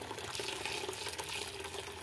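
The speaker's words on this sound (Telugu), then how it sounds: "ఇప్పుడు వేడి వేడి వాటర్ అయితే ఇందులోకి వేసుకుందామండి." Hot water pouring steadily into a greasy kadai being soaked for cleaning, a continuous close splashing and gurgling rush with no talking.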